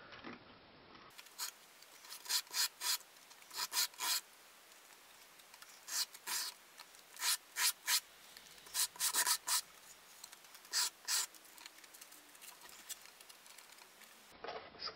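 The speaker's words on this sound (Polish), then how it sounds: "Teraz łączymy je razem i szlifujemy tak, żeby były dwa identyczne skrzydła." Two balsa glider wings for an indoor model glider are sanded together by hand, making repeated short rasping strokes in irregular bursts, close and fairly quiet, with no talking.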